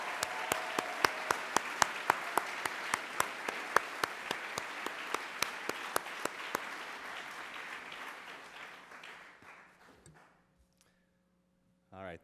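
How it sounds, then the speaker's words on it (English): A crowd applauds steadily with sharp claps for several seconds, then the clapping thins and fades out, followed by a brief close sound at the end. "One more round of applause from everybody."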